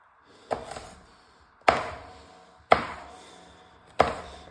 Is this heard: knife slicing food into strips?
yes